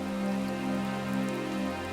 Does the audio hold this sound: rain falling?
yes